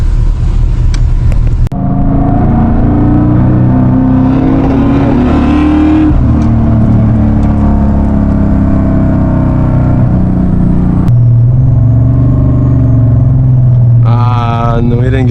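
Loud, close engine noise from a car accelerating hard in a street race in Southern California, with a gruff rumble rising through revs, a sharp shift break, then continued pulling power.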